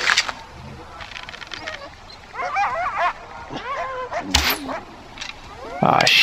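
Dogs barking and yipping in the video game Far Cry 4, with several quick, close barks and whines scattered among other game sounds and a voice.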